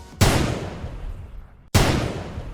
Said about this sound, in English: 2 gunshots echo through the room